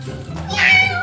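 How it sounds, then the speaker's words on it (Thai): A cat gives a single short meow that rises and then fades, close and clear over a low background hum. "แมว"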